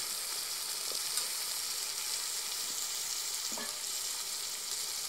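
Vegetables sautéing over medium heat for Chettinad country chicken kathampam make a steady, even hiss of frying, with a few faint scrapes of stirring, close and continuous.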